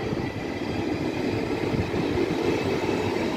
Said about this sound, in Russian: Можем видеть, как «Ласточка» пошла к Измайлову.